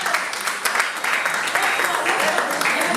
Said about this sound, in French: Applaudissons pour l'impact parental.